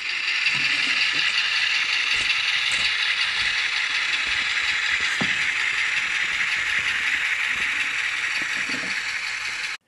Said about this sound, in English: And there it's moving at throttle notch 2. Beautiful locomotive.